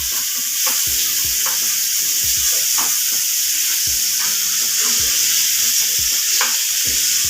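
Chicken for biryani sautés in a pan, with a bright continuous sizzle and repeated rhythmic stirring scrapes and knocks of the spoon against the pan, close and loud with no talk.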